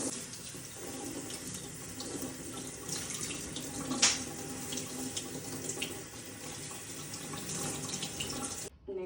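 Tap water runs steadily over broccoli being washed under a kitchen faucet, a continuous close splashing stream with a brief sharper splash midway, cutting off just before the end.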